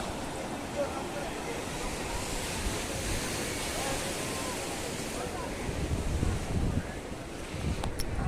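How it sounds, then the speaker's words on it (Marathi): Continuous roar of high-tide sea surf at Alibag beach under gusty wind buffeting the microphone, a broad rushing wash with a few stronger surges, outdoors and fairly loud. "किती भरती आले पहा समुद्राला"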